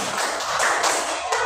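Pupils in a school classroom during an Islamic studies lesson clap in unison, a thick wash of hand claps with short rhythmic accents, near and moderately loud, heard on its own without voices.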